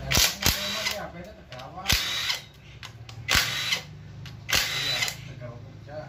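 A power tool buzzes in short repeated bursts on 10 mm bolts holding a body panel on a 2007 Toyota Harrier, close and loud, with people talking in between.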